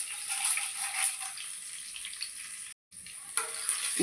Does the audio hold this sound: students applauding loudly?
no